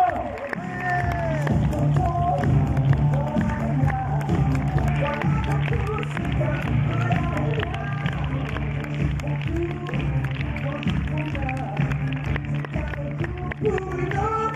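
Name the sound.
audience applauding and cheering at film premiere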